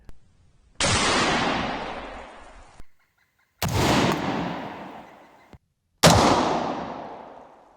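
Three loud rifle shots fired outdoors while sighting in a thermal scope, each a sharp blast followed by a long, rolling echo that fades over a second or two, spaced a few seconds apart.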